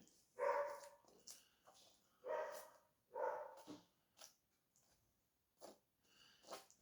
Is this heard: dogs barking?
yes